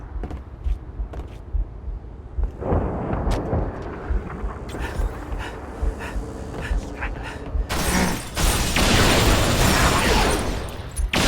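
Wraith mortar fire and explosions thunder through a Halo: Reach firefight, a string of deep booms and blasts under continuous battle noise, building to a loud sustained burst near the end.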